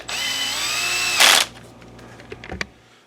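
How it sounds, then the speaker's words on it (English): A power drill runs steadily for about a second as it drives a screw into a BenQ W6000 DLP projector during reassembly, then whines up in a louder burst, followed by scattered clicks and handling noises from the casing. "Let's start screwing it back together."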